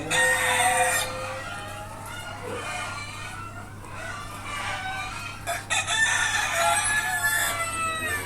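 Native desi hens kept on a small farm, about 38 birds, cluck almost continuously, with a rooster crowing loudly and close by over the flock's steady chatter.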